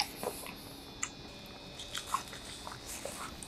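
Someone bites and chews food made with pickles and peanut butter, giving soft irregular crunches and wet squishy mouth sounds up close over quiet background noise, with no speech.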